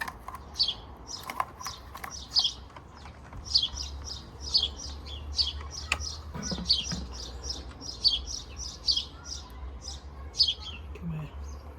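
A starling trapped inside a drainpipe gives repeated high, rapid chirps in quick bursts, slightly hollow and enclosed, with faint scrabbling and occasional soft speech nearby.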